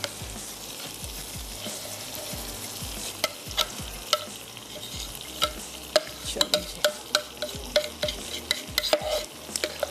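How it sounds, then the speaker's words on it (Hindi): A spoon stirs spinach into meat cooking in a pan, with close scraping and clinking strokes over a steady soft sizzle and no talking. "मैं एक अदद स्पून ले लेती हूँ और ये पालक ऐड कर देते हैं इस गोश्त में"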